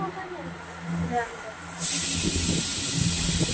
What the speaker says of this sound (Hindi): कुकर सीटी दे रहा है